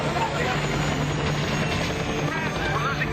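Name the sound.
helicopter flying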